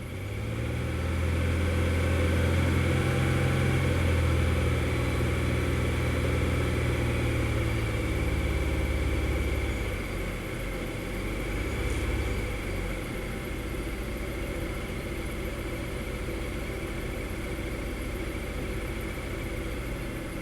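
Buick V6 engine idling with RPMs slightly raised, a steady, loud, low mechanical drone with a smooth hum that holds throughout, close up.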